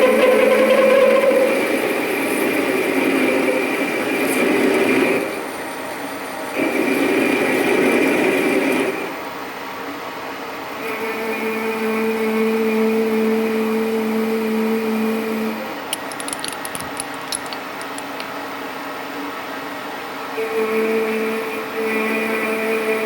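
Metal lathe parting off a workpiece during final machining of a toolpost dial indicator, a steady motor whine with bursts of cutting noise, pausing and resuming in segments, close and fairly loud.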